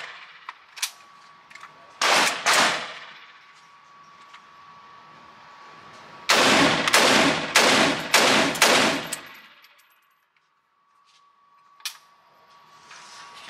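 An AR/AK-47 style rifle fired inside an indoor range: a loud double shot, then a rapid string of about six booming, echoing reports, followed by quieter clicks and a single distant crack over a faint steady hum.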